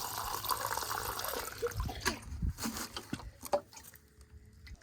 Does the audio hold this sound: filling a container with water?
yes